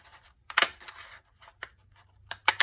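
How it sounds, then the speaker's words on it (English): A paper punch cutting shapes from red and white paper, giving several sharp clicks and crunches spaced irregularly, close and fairly loud, with no one talking. "So I'm going to punch several of these."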